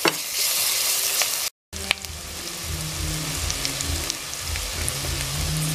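Onions frying with turmeric and ginger-garlic paste, a loud, close, continuous sizzle with the rasp of stirring, broken by one brief cut before the frying resumes with a fuller, bubbling sound.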